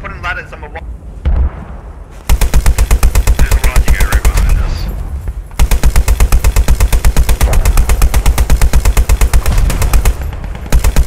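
A Vickers machine gun fires in the World War II shooter Squad 44, with long, loud, rapid-fire bursts of rhythmic shots broken by a brief pause, close up and dominating, after some quieter battle noise at the start.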